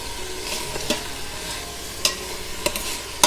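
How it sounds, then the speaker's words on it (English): Diced onions and carrots saute in the natural fat of browned frozen ground beef in an Instant Pot, a close steady sizzle with occasional sharp scrapes and clicks of a stirring utensil against the pot. "you just want to use the natural oil from the meat to kind of saute the onions a little bit"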